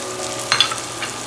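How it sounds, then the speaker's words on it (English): Mushrooms sauteing in a pan for a vegetarian pan pizza, a steady soft sizzle with a few brief stirring scrapes and clinks near the middle, heard alone without talk. "I'm now going to saute the mushrooms."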